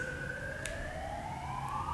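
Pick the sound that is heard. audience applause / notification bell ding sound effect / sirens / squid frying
sirens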